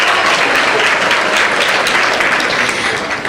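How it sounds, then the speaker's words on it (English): At a high school winter sports banquet, the audience breaks into loud, dense applause that holds steady throughout before easing slightly at the very end. "Please hold your applause until I've introduced everyone."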